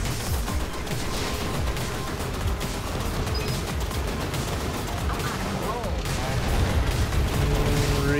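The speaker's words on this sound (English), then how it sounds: "Reasonable cannon shot there." Cannon fire in the video game Assault Android Cactus comes through a dense, continuous wall of rapid gunfire, blasts and mechanical clatter during a boss rush fight, loud throughout with no pauses.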